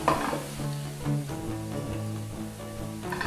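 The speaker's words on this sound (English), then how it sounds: "And saute that a little bit" Chili ingredients sautéing in a pan for grandma's chili, a soft, fairly quiet sizzle with a few light stirring scrapes, heard alone without talk.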